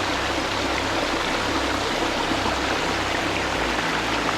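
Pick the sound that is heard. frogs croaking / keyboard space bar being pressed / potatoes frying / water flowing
water flowing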